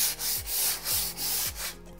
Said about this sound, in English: So even just that 400 grit real quick really smooths it out.